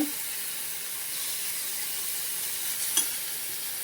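Pumpkin slices fry in oil with a steady, close hiss of sizzling and a single faint clink near the end.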